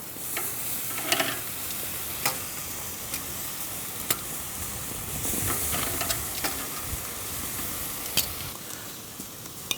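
Barbecue sauce dripping off ribs onto hot coals gives a steady close crackling sizzle with scattered sharp pops and brief hissing bursts throughout.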